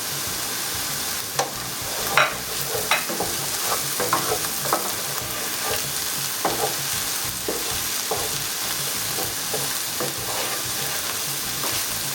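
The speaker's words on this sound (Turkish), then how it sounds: "Şöyle biraz karıştıralım." Zucchini frying in a pan for a milky squash dish, stirred steadily: a constant close sizzle broken by repeated scraping and clinking spoon strokes, no voices.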